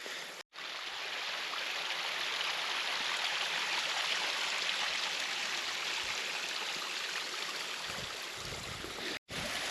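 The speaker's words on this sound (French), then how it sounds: "j'avance tout petit à petit sur cette cascade" Steady roar of a mountain waterfall cascading down a high rock face on a solo climb in the Pyrenees, broad and continuous at close range with no voices.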